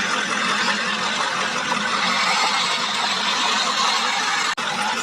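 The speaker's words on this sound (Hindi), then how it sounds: "तुम जल्दी से स्वराज ट्रैक्टर को स्टार्ट करो" A toy-cartoon Swaraj tractor engine runs as a loud, steady rumble with a constant hiss, ending in a sudden short cutoff near the close.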